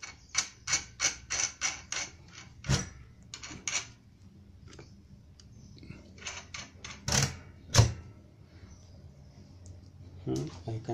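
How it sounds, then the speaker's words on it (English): A stiff spring inside the depth adjustment of a Prescott wood router gives a run of quick, close mechanical clicks and creaks, followed by scattered knocks and rattles of handling. "I can hear a very stiff spring inside."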